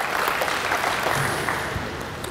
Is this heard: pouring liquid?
no